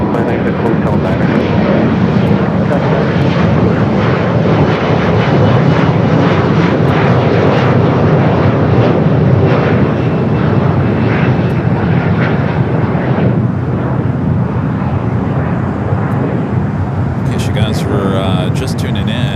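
A large airliner takes off from runway 25 right at Los Angeles International Airport, its jet engines roaring loud and steady for nearly twenty seconds, the rumble fading slightly near the end.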